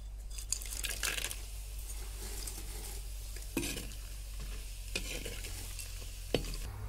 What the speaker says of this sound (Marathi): हे नाकेश, हे स्टार फूल आणि मसाले वेलदोडे हे पण तळून घ्यायचं